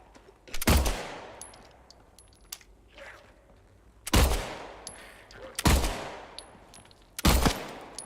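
Four sharp, loud gunshots ring out one at a time in the survival horror game Silent Hill 2, spaced a second or more apart, each followed by a short echoing tail and faint clinks.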